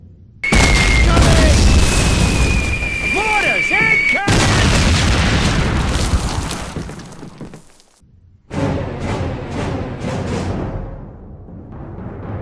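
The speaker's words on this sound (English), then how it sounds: "the mortars are taking a break" Mortar fire in a first-person video game, heavy booming blasts with shattering debris and crackle, loud and close, arriving in bursts with a brief lull before another volley.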